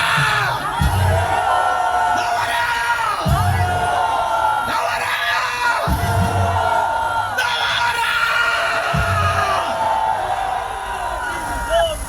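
Rally crowd at a Gwanghwamun political gathering shouting back in unison after the speaker's call, repeated loud collective yells in bursts over a continuous roar of the crowd.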